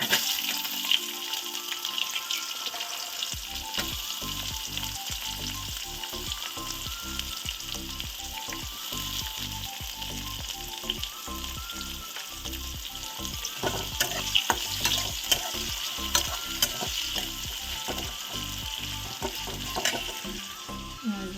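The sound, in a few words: onion frying in oil with cumin and bay leaf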